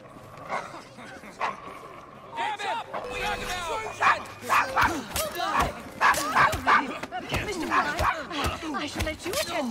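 A dog in the video game Assassin's Creed Syndicate barks in a rapid series of loud, sharp yips and woofs. Game sounds and a faint voice accompany the barking, which is close and grows more frequent partway through.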